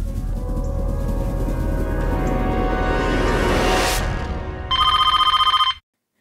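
A telephone rings loudly, with a sweeping electronic tone building for several seconds and then a rapid repeating bright bell trill before it cuts off abruptly into silence.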